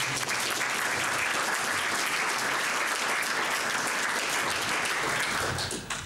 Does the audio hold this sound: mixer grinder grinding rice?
no